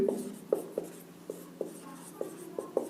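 Chalk or marker strokes on a classroom board during a school biology lesson on the excretory system: a series of short, scratchy taps and strokes in an uneven rhythm, close and fairly quiet, with no talking over them.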